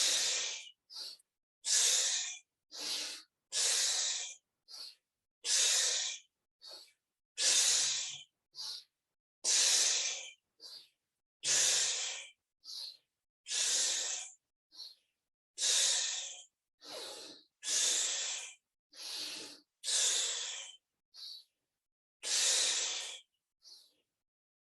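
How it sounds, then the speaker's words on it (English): Forceful, rhythmic exhales through the nose or mouth during a breathwork exercise, about twenty sharp hissing breaths in steady succession, close and clear with short silences between. "Squeezing all that old air out, making space for the breath to come back in."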